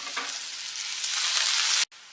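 Finely chopped onions fry in hot oil for keema samosa, a loud, close, continuous sizzle that swells slightly as it goes, then cuts off abruptly near the end before resuming briefly.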